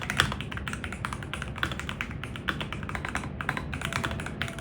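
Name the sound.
typing on inductive-switch mechanical keyboard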